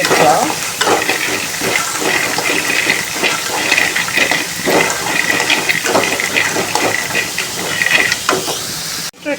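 Beetroot pieces sizzling and frying in a pan while being stirred, a steady loud hiss with irregular scraping stir strokes throughout, no talk.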